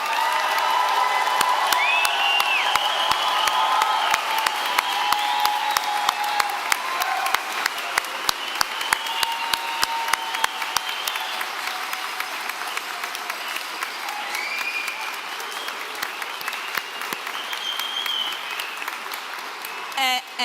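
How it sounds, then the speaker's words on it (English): A large commencement audience at an Oregon Executive MBA graduation claps steadily for the graduates, with cheers and whoops rising over dense applause for about twenty seconds before it thins near the end. "one more big round of applause for our graduates"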